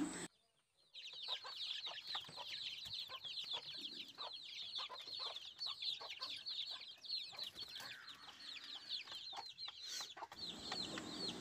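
Native frizzle chickens on a farm cluck continuously, a dense, close run of short repeated clucks and chatter that carries through the whole stretch with no talking.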